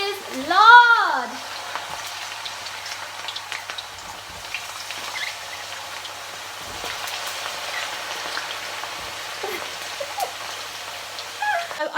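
Homemade chips fry in oil over medium heat, giving a steady, close crackling sizzle like light rain that runs throughout, with a brief vocal exclamation at the start.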